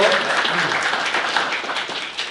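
A church congregation applauds to welcome first-time visitors, a mother and her daughters, at a Sunday service: brief, dense clapping from a roomful of people, steady and fairly close, fading slightly at the end.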